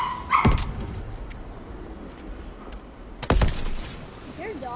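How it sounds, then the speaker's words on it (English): A dog barks a couple of times through a player's headset microphone during Fortnite-style gameplay, sharp close yaps breaking over quieter game sound and voice chat. "Your dog in this mic is very loud"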